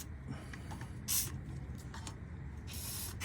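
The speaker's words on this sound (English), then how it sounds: "You want to spray some WD-40 in here to get this loosened up." Two short hissing bursts of WD-40 aerosol spray onto a BMW rear differential bushing, one brief and one longer, over a steady low background hum.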